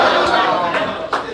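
Roast battle comedy crowd in Hartford clapping and whooping, a loud, close burst of cheering voices over hand claps with a few sharp peaks, sustained through the moment.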